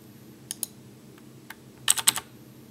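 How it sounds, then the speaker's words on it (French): Keys on a loud mechanical computer keyboard click in sparse, irregular taps, then a quick burst of several clacks near the end, close and crisp against a quiet background. "c'est un clavier mécanique qui fait énormément de bruit"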